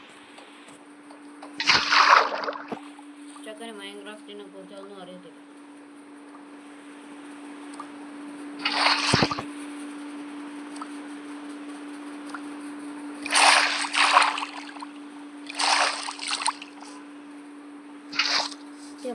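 Water splashing in the Minecraft video game comes in several short, loud bursts spread across the stretch over a steady background hum, with a brief spoken line near the start.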